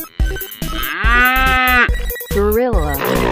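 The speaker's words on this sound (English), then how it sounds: "Cow." A single long cow moo, loud and close, rising and sliding in pitch with a second shorter moo, heard in an animal-sound guessing game.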